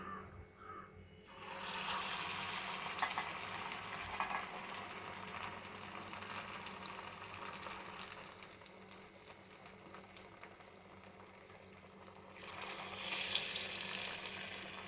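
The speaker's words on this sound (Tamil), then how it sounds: "இந்த மாதிரி மெல்லிஸாக தட்டி எண்ணெயில் நம்ம வடை மாதிரி பொரிச்சு எடுக்க போகிறோம்" Thin flattened poha vadas frying in hot oil, with a continuous bubbling sizzle that swells louder at the start and again near the end, heard close with no talk.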